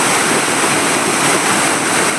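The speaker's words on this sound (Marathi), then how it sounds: "एवढं पाणी पडायला बघा" A waterfall in the hills near Sule village, Kolhapur, in monsoon flow: a loud, steady broadband roar of falling water heard close up, unbroken and with no voices.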